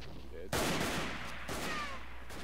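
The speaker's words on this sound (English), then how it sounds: "I'll call artillery support! Fire! Incoming mortar rounds!" Artillery and mortar fire in the WWI shooter Verdun: two sharp, loud blasts about a second apart, each followed by a rumbling tail, with a voice faintly present in the mix.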